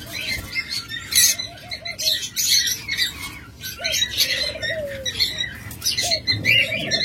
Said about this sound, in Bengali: দেখুন অসংখ্য লাভবার জোড়া রয়েছে।